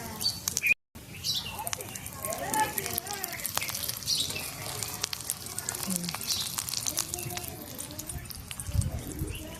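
A small egg fries in a tiny pan on a mini toy kitchen, giving a steady broadband sizzle and crackle throughout, with a brief dropout near the start.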